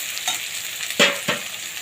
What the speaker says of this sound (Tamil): பொடியை நறுக்கி வச்சுக்கிற தக்காளி போட்டுட்டு ஒரு வதக்கிட்டு இஞ்சி பூண்டு பேஸ்ட்டும் போட்டுக்கணும்